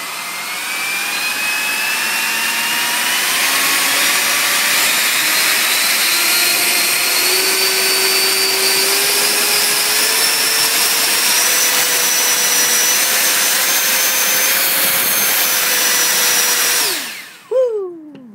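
A 12-blade 70mm electric ducted fan spools up to full throttle, a loud, close whine that rises steadily and holds for about fifteen seconds before cutting off and winding down at the end.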